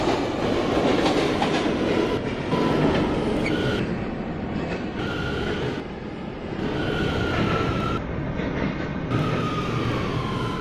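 A New York City subway R179 train runs at speed, a loud continuous rumble of wheels and motors with rhythmic clacking and a faint whine, no voices.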